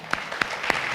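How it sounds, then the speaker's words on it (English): Audience applause for a panel at a talk on security and utility tokens, a brief patch of scattered clapping with a few distinct close claps, moderate and without talk. "please give our panel a round of applause"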